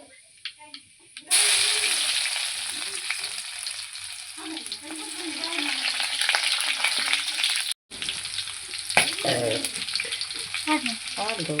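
Oil tempering for sambar bursts into a loud sizzle after a quiet start, crackling steadily with a brief cut partway, while voices talk over it.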